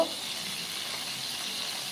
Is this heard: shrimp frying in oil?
yes